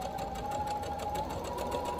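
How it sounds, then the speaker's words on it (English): Sewing machine running steadily as it stitches fabric for an infinity scarf, a continuous close whirring hum with even motor drone throughout and no speech. "continue to sew while moving your top piece away from your sewing machine"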